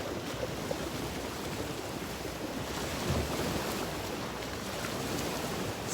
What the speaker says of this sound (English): I guess these waves are from a boat going by or something.